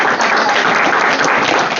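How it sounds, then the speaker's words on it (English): An audience bursts into sustained applause, dense steady clapping from many hands at close range throughout the short clip, with no voices over it. "round of applause"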